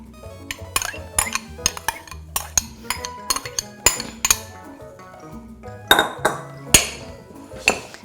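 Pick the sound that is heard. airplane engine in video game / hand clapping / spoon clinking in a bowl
spoon clinking in a bowl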